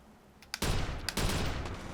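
Rapid bursts of gunfire from a weapon in the video game Watch Dogs, two loud volleys a half second apart, each sustained and dense, sounding close and dominant with no talking over them.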